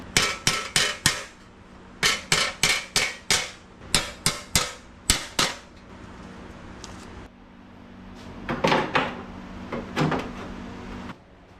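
Hammer tapping on a custom car dash for a 1949–54 two-door hardtop, sharp metallic blows in quick bursts of three to five, then quieter scraping and handling of metal parts; close and loud, no talk.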